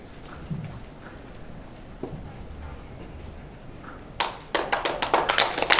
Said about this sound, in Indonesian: Sekali lagi tepuk tangan yang meriah untuk para penerima KPPU award untuk kategori ini